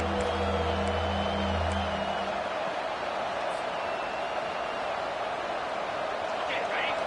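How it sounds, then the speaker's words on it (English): A home stadium crowd roars in an NCAA 25 college football game as a dense, steady wall of cheering and noise, with a low drone early on and a voice briefly audible under it. "These fans are going absolutely nuts."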